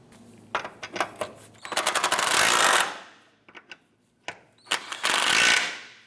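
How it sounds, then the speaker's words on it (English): A ratchet tightens sway bar bracket bolts on a 2004-2008 Acura TL, giving quick rattling clicks in two sustained bursts with brief clanks between them, close and fairly loud. "Let's go ahead and tighten these bolts down."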